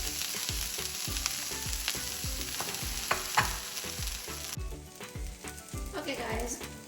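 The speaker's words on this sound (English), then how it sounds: "one pan the okra is frying" Okra frying in a pan over a low flame for a dry okra and potato dish, a steady close sizzle broken by repeated scraping stirs, with no talk.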